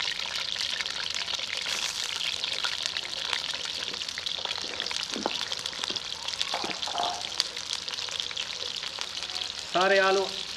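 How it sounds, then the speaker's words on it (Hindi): Over a kilo of peeled potatoes fry in hot oil for Afghani aloo karahi, giving a steady, dense sizzle throughout with occasional stirring scrapes and a brief voice near the end. "सारे आलू ऑयल में डाल के फ्राई कर लेंगे।"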